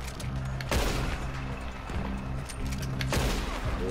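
Gunshots in Red Dead Redemption fired at lights as dusk falls, a few sharp reports spaced about a second apart over steady game music and ambience.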